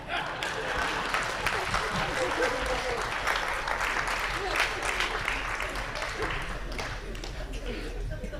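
Sustained applause from an audience at a Hindi poetry recital: dense, steady clapping that fills the room at an even level for several seconds, with a faint murmur of voices underneath.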